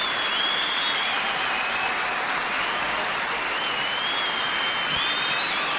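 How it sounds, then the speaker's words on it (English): Audience applause from a played live recording of a performance, a dense, steady wash of clapping that fills the whole stretch at close, even loudness. "let's let the claps clap."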